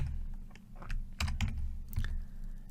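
Keys clatter on a computer keyboard as a PowerShell command is typed, a short irregular burst of close, crisp clicks with brief pauses between clusters.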